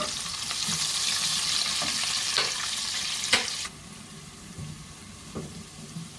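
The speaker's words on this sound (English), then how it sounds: "So I have the regular onion, the yellow onion, and the shallot frying." Loud, steady sizzling of yellow onion and shallot frying in a pan, with occasional stirring clinks; the sizzle drops quieter partway through.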